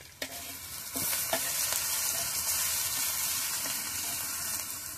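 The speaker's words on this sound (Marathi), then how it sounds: "त्याच्यामध्ये तेल टाकले आलेलं आहे. त्यानंतर आपण आता लसूण टाकूया." Garlic hitting hot oil on a tawa over a wood-fired chulha, a sharp initial sizzle that swells into steady loud frying with occasional stirring scrapes, close up and without talk.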